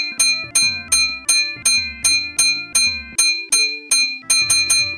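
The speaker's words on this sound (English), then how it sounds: "you've got this really lovely piercing bell sound as you do so" Piercing bell chimes from the pattern memory mini-game in DeviantArt: The Game, ringing loud and bright in a steady rhythm of repeated strikes, about a dozen, each decaying briefly, with a quicker cluster at the end and no voices.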